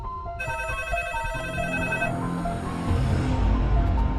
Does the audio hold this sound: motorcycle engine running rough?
no